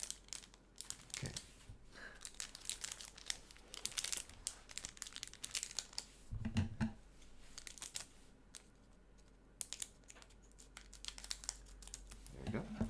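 The wrapper of a Kamigawa Neon Dynasty collector booster pack crinkles and crackles in irregular bursts for several seconds, sometimes sharp and close, with quiet talk in the background.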